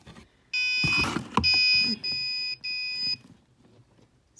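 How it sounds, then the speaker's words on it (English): Anti-package-theft laser alarm going off: a loud electronic alarm sounding in several bursts of bright, steady multi-tone beeping separated by short gaps, alone in a quiet room. "once they start to open, the alarm goes off there"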